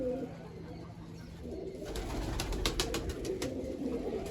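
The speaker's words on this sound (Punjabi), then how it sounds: "ਵੇਖੋ ਬੈਠੇ ਆ ਧੁੱਪੇ ਕਬੂਤਰ" Pigeons kept in a loft sit in the sunshine and coo softly, several low, throaty rolling calls close by in a steady background hum.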